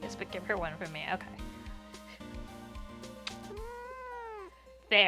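Shop Cat, a pet cat in a streaming room, lets out a single drawn-out meow near the end, loud and close over soft game music, after a busier stretch of sound.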